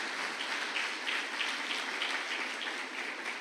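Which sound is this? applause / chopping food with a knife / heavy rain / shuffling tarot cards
applause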